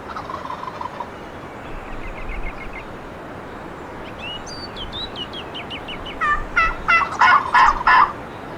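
A wild turkey gobbler, a double-bearded tom, gobbles in open spring woods during a bow hunt, faint distant calls early on building to a loud, close burst of repeated gobbles near the end.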